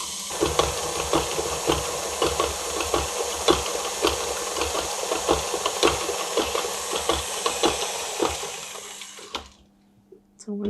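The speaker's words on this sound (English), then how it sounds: "I'm going to add the sugar and beat this until the sugar completely dissolves" An electric mixer beats sugar into an eggless vanilla cupcake batter, whirring steadily with rhythmic clicks and knocks of the beaters against the bowl for about nine seconds before it stops.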